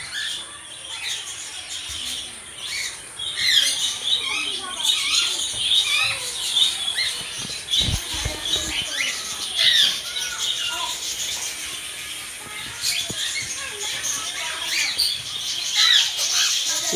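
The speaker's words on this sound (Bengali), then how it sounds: "আমি নাম জানি না পাখিগুলোর কি নাম, তবে এই যে নতুন ধরনের পাখি" Birds in an ashram aviary squawk and chirp continuously at close to middle distance, sharp repeated calls overlapping one another, with a few soft knocks and faint background voices.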